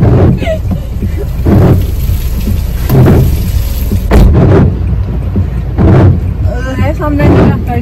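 Heavy rain and a thunderstorm at night in Goa make a steady loud hiss with low rumbling swells, heard close up beneath agitated, hurried talk.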